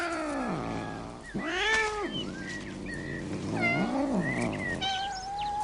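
Domestic cats meow close by in several long, drawn-out wailing calls, one after another, with some overlap. No one talks.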